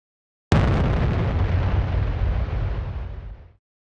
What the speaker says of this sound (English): That bomb's due to explode any second now.